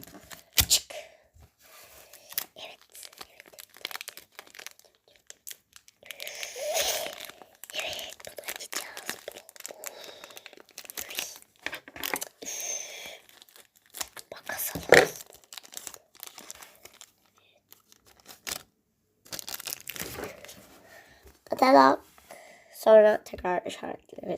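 A package is torn open up close, with loud crinkling and ripping bursts of wrapping scattered throughout and a person talking between them.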